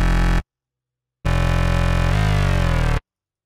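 A thick synth bass pad layer made in Reason plays two sustained notes, a short one followed by a long one, separated by silence. The tone is dense, full and low, and it shifts partway through the second note.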